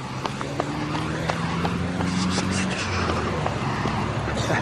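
Road traffic passing a cyclist on an evening street, engine drone and tyre noise steady and fairly loud with a passing vehicle sweeping through mid-clip, a faint voice briefly underneath.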